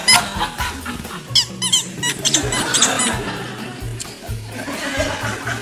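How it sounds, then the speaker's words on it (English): A squeaky chair creaks repeatedly as someone sits and shifts on it, giving sharp high squeaks in irregular bursts amid a room with audience laughter and murmuring. "You've got some very squeaky chairs in here."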